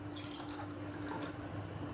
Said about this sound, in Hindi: इसमें अभी हम आधा कप और डाल देंगे।